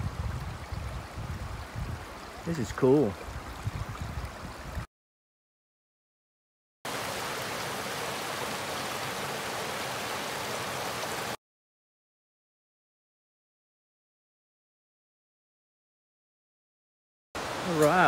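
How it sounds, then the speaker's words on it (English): Water running beneath rocks along an Appalachian trail, a steady soft rushing like a hidden stream, heard in two stretches broken by silent gaps, with a brief spoken remark near the start. "It sounds like a river running under these rocks."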